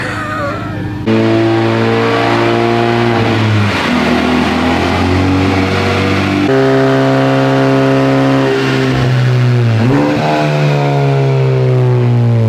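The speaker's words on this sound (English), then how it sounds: "we finally got this thing on the dyno, and Remy is scared" A tuned Honda Civic Type R that was previously totaled, fitted with antilag, runs hard on a dyno. The engine note is loud and continuous, with repeated climbs in pitch through the pulls and brief drops between them, and nobody talks over it.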